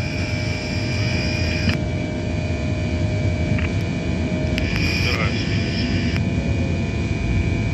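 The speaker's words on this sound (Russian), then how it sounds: "Шасси убрать? Шасси убираю." Antonov An-74 jet transport climbing after takeoff with its landing gear retracting, giving a loud, steady engine roar inside the cockpit with brief clunks and tones, while crew voices talk over it.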